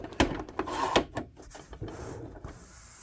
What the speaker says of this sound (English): Popping the van door off, side door.